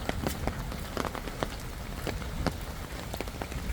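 Steady rain patters on a hard surface in a village in Raghunathpur, Sirajganj, with scattered sharper drips popping through the close, continuous hiss.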